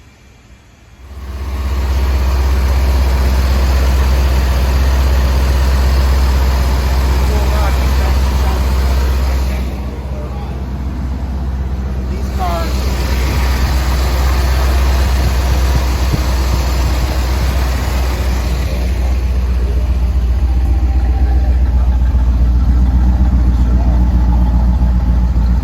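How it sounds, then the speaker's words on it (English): A 1984 Chevrolet Corvette engine starts and settles into a steady, loud idle with a deep rumbling drone that continues throughout, a brief dip in the middle before the idle resumes. "we're gonna pop the hood and start the engine and take a look at that engine bay"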